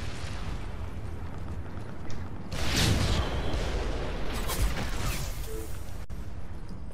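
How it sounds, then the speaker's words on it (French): A grenade explodes in the online military shooter Ghost Recon Online during a clan match, a broad burst that swells and rolls over a steady gameplay backdrop, with a second sharp blast following a couple of seconds later. "j'ai mis une grenade, fais gaffe"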